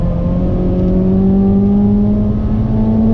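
Ford Fiesta ST180 Stage 3 engine at full throttle on the Brands Hatch race track, a loud steady in-car drone with harmonics climbing gradually as revs build, no speech.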